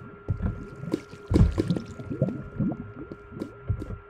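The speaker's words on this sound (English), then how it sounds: "The water falling." Water falling and splashing in the Minecraft video game, a close run of soft wet sloshing and dripping bursts with an uneven rhythm and no talk.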